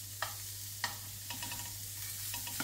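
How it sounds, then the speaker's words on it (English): Salmon sizzles and fries in oil in a pan alongside broccoli, a steady soft crackle broken by sharp clicks and scrapes as the fish is flipped, with a low hum beneath. "I'll also flip the salmon around"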